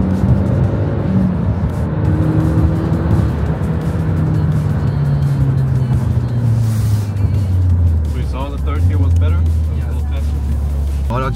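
A 343-horsepower imported car's engine pulls hard under acceleration, a loud sustained drone rising and shifting pitch through gear changes, heard from inside the cabin with people talking over it.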